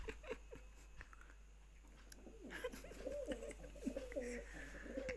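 A pigeon coos close by, with a run of repeated throaty coos filling the second half over a faint steady background.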